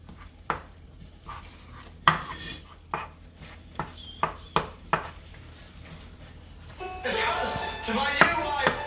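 A spoon stirs sautéed corned beef in a pan, scraping and clinking in sharp irregular strokes, then a louder sizzle rises toward the end while a person talks over it.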